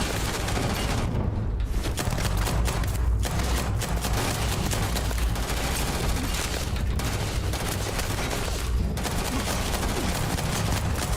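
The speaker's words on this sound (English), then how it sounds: "Who's shooting at me?" Gunfire in the video game Starfield, a dense rapid fusillade of shots rattling almost continuously with brief lulls, loud and close.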